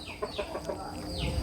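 Chickens on a large farm cluck in short, scattered bursts at close range over steady outdoor background noise, with someone speaking.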